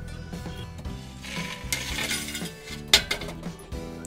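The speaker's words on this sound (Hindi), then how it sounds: "अब हम इसमें डाल देंगे ड्राई फ्रूट सारे और इसे अच्छे से मिक्स कर लेंगे फटाफट" A spoon stirs dry fruits into melted sugar for sooji and gond panjiri, giving soft scraping and a few sharp clinks against the pan over steady background music.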